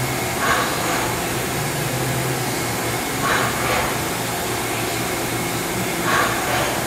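A 2000 Milltronics VM24 CNC vertical machining center running a program, with a steady, even whirring drone and faint higher whines rising briefly about every three seconds.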